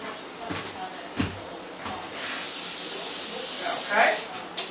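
Olive oil spray misted onto mushrooms before breading them in Parmesan and egg for a Ninja Foodi air fryer, a steady close hiss of about two seconds after brief handling noises, ending with a shorter second burst.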